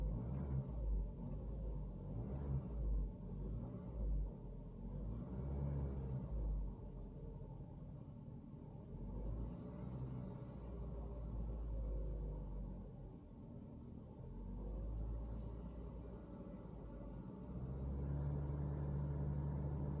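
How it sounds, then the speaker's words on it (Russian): A car running on gas through a Tomasetto AT-12 reducer, with a thin, high, steady whistle riding faintly above a low, continuous idling engine rumble. "Вот этот писк происходит только на газу, соответственно."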